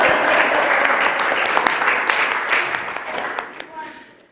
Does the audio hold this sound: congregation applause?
yes